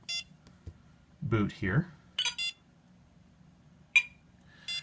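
A Microbeast Plus flybarless helicopter controller, powered up after a firmware update with no ESC connection, gives short, sharp, spaced beeps close by, while someone speaks briefly between them.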